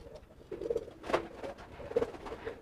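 Crested pigeons coo close by in soft, repeated low calls, with one brighter sound in the middle and no speech.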